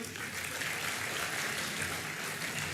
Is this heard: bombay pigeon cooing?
no